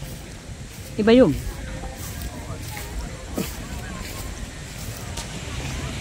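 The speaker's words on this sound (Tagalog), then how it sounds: "Sa lakas ng hangin!" Strong wind buffets the microphone on a seaside beach beside wind turbines at Pililla, producing a constant low rumbling roar throughout, while a voice speaks briefly near the start.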